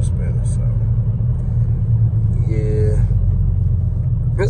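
A sleeper Buick car rumbles with a heavy, steady low engine drone during a boosted launch, someone talking over it throughout.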